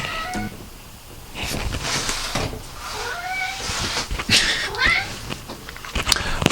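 A domestic cat meows repeatedly indoors, with drawn-out, wavering cries close by and fairly loud, over a noisy background with some faint voice sounds.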